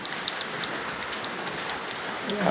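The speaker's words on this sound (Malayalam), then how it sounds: "ഇവിടെ ഇന്ന് പൊരിഞ്ഞ മഴയാണ് കേട്ടോ." Heavy rain pouring steadily on a day of thunder in Kerala, a dense continuous hiss of drops on surfaces with occasional louder drips, no voices.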